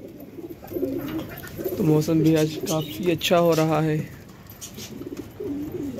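Pet pigeons cooing in soft, low, rolling calls near the coop while someone talks over them.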